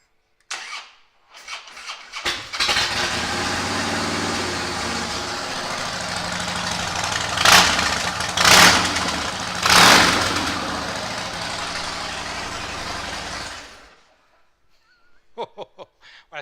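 A 2013 Harley-Davidson FLSTFB Fat Boy Special Low motorcycle starts up close by and settles into a loud, steady idle with three sharp throttle blips before it shuts off to silence.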